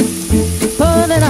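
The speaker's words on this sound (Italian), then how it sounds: "Aggiungiamo la parte superiore degli asparagi che abbiamo appena tagliato." Asparagus tips sizzle and fry in a risotto pan, a steady, close crackle of hot fat, with music playing underneath.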